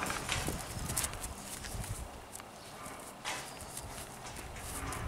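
Hooves of a chestnut working horse with four white socks walk on ground in a paddock, a steady clip-clop of footfalls at moderate distance against faint outdoor background.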